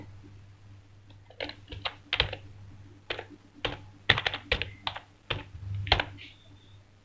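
Computer keyboard typing in a series of quick, irregular clicks and short bursts over a low steady hum, close and fairly quiet, while entering text in Illustrator's type-on-a-path tool.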